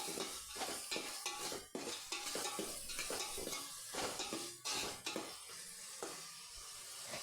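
Onion and tomato with salt being stirred in a pan for leftover-rice bisi bele bath, a steady scraping and clinking of a spoon against metal over a continuous sizzle, close and fairly loud, with no talking.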